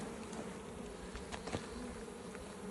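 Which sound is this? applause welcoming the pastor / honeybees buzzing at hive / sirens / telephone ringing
honeybees buzzing at hive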